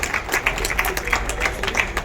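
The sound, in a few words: audience applause welcoming Maharaj ji at Hindu gathering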